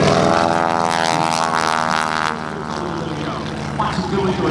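A 3,000-pound, 220-horsepower aerobatic propeller plane performs at an air show, its engine droning loud and steady. The roar eases slightly partway through as the plane climbs with little energy left.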